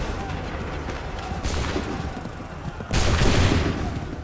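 A musket volley in the Assassin's Creed 3 Battle of Bunker Hill plays as dense, crackling gunfire in repeated loud bursts, the heaviest bursts near the middle and the end, over a rumbling battle background.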